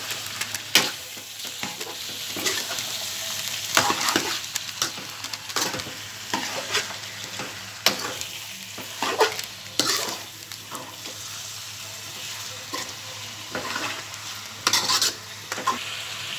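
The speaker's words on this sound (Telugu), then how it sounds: "అల్లం వేసుకున్న తర్వాత మిక్స్ చేయాలన్నట్టు మొత్తం. కానీ మెల్లగా మిక్స్ చేయాలి." Ginger being stirred slowly as it fries in a pan, with a steady soft sizzle under repeated scraping strokes of a utensil against the pan, alone without talk.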